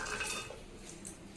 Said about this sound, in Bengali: এরপর এটা প্রেসার কুকারে ঢেলে দিচ্ছি।